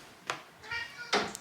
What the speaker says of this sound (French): Oh là, là c'est un chat là.